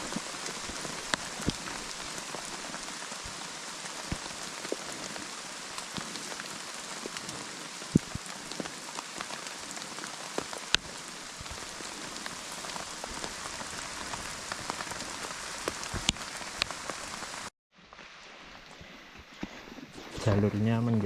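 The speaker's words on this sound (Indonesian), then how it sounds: "Ini semakin deras hujannya turun." Heavy rain pours on a mountain trail on Mount Lawu via Candi Cetho, a dense, steady close hiss of drops with sharper patters, before the rain noise drops away abruptly near the end as a voice speaks.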